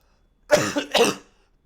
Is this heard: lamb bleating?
no